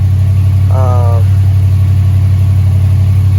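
Idling engine of a Chevrolet Impala SS with a newly replaced idle air control valve, a loud, steady low rumble heard close up, briefly overlaid by a short voice.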